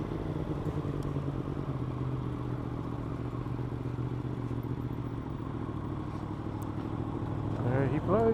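A vehicle's exhaust on a scenic Scottish road drones steadily under an idling engine hum, then pops and crackles sharply near the end as it passes.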